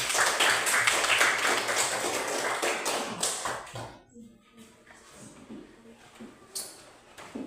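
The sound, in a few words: group clapping hands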